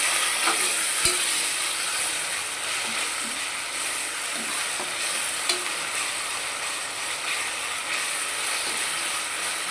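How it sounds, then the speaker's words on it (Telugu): Spice paste being stirred into mutton curry in a pan: a steady close sizzle with occasional scraping clicks from the spoon, continuing evenly for about ten seconds with no voices. "బాగా కలుపుకుందాం"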